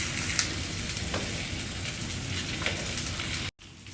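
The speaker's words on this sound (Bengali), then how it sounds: "এদিকে মাছগুলো একদম লাল লাল ভাজা হয়ে গেছে" Fish, potatoes and freshly added greens fry together in a pan, a dense, steady sizzle like rain that runs loud and unbroken before cutting off abruptly near the end.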